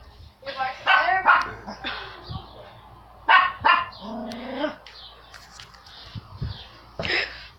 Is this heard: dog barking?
yes